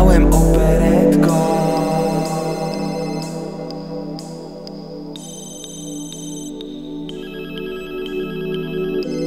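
An old rotary telephone rings loudly and steadily throughout, its bell tone sustained with repeated bursts, no talking over it.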